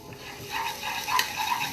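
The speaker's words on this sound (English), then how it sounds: "stir it up a little bit." Food being stirred in a pan on the stove, with soft scraping and a steady low sizzle building slightly over a short moment, no voices.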